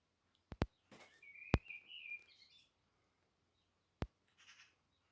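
Birds singing and chattering at dusk, with a brief run of chirps and warbling calls amid a few sharp clicks and knocks, heard moderately close against quiet surroundings.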